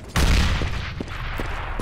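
Gunfire in Counter-Strike: Global Offensive, a loud burst of rapid shots that rings out and decays, followed by a few quieter distant pops.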